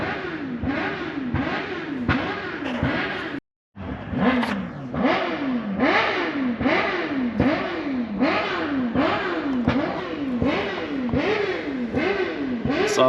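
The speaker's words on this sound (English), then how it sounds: "bikers, man, they just love revving their bikes" Superbike motorcycles rev their engines over and over, a steady run of loud, close throttle blips that rise and fall in pitch, with one brief gap of silence early on.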